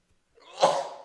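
A single sharp human sneeze, close and fairly loud, with a short inhaled build-up followed by a burst that fades quickly; no talking during it.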